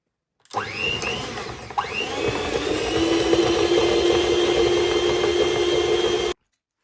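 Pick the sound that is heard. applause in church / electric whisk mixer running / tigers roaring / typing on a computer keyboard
electric whisk mixer running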